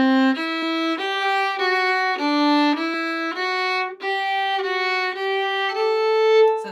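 Solo fiddle plays a flowing phrase from the Irish reel Tripping Down the Stairs, a steady run of bowed notes stepping down and back up, close and clear with no talking.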